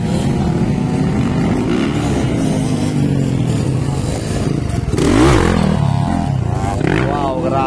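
Small underbone motorcycles race in a ladies' final at a barangay motocross event, engines droning and revving loudly throughout, with a sharp rev surge near the end and voices talking over the noise.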